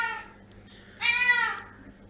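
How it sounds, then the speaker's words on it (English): A house cat meows in a kitchen while burgers cook, giving a short faint call and then a louder, longer harmonic meow up close, with no talk over it. "I told you my cat is annoying, or my mum's cat."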